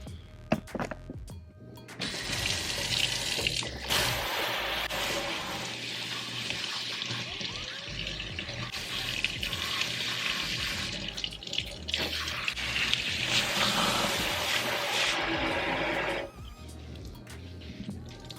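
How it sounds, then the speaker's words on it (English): Tap water runs steadily into a basin while hair is rinsed, a continuous close splashing rush that starts after a couple of seconds of quiet and then cuts off near the end. "I'm gonna set y'all up while I rinse my hair"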